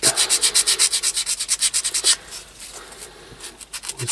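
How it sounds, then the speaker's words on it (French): Rapid back-and-forth rubbing strokes of sandpaper on a small piece, working away a line, form a close, steady rhythmic rasp that pauses briefly, then resumes more softly. "essayer de le poncer avec autre chose peut-être"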